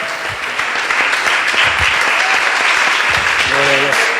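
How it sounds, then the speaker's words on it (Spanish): Congregation at a Thursday church service applauding in a dense, steady wash of clapping, with a few voices calling out over it. "Dale un aplauso, Señor."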